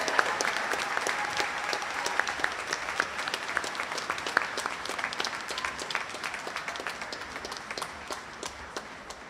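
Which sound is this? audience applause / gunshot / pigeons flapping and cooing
audience applause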